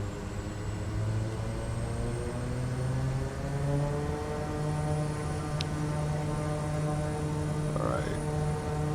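Kodiak 100 propeller plane at takeoff power in Microsoft Flight Simulator, a loud, steady propeller and engine drone with strong sustained tonal hum that stays constant throughout, with no talking.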